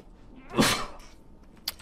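A single loud, close sneeze bursts out sharply and fades within about half a second, followed by a faint click, during a Smite gaming session.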